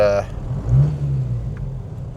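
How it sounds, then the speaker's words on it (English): Idling 1994 Toyota Hilux Surf with a 1KZ-TE turbo diesel, a steady low rumbling clatter close by that swells briefly, with a short burst of another sound at the start. "I've got the 32-year-old diesel rattle."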